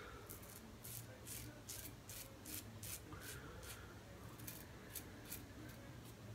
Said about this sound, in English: that's literally plucking hairs out of my neck right now